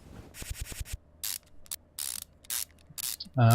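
Ratchet tightening brake parts, an ABS pump and module, in Car Mechanic Simulator 2015: quick bursts of clicking in short repeated runs, close and clear, with a louder mechanical clunk at the end.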